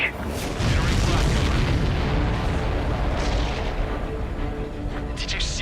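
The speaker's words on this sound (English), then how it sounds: "Did you see that explosion?" A heavy explosion in the combat flight game Ace Combat 7 bursts into a loud, rolling boom that rumbles on for several seconds, with voices talking underneath.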